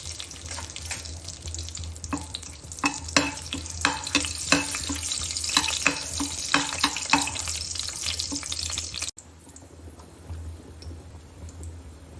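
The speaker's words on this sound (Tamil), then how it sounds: "கல் சூடானதுக்கு அப்புறமா 2 பட்டை, 2 கிராம்பு, 2 ஏலக்காய், ஒரு பிரிஞ்சி இலை போட்டுப்போம்." Cinnamon, cloves, cardamom and bay leaf sizzle in oil on a hot pan, crackling and popping busily and loudly for several seconds before the sound abruptly drops to a faint hiss.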